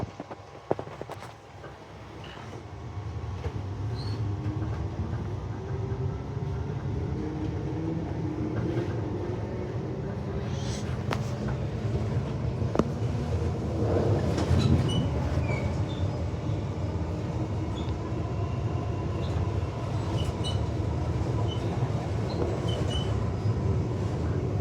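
A Brisbane Cleveland Line train arrives at Wynnum Central Station, heard from inside as a steady low rumble of wheels and motors that slowly falls in pitch as it brakes, with faint clatter on top.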